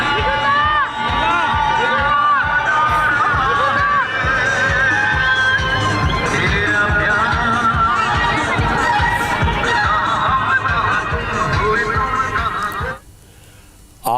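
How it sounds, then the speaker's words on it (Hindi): A large, dense crowd at Mithun Chakraborty's road show in Bengal, a loud continuous mass of voices and shouting under blaring music, cutting off abruptly near the end. "मिथुन का बंगाल में जबरदस्त क्रेज है, उन्हें देखने के लिए लोगों की भारी भीड़ उमड़ी।"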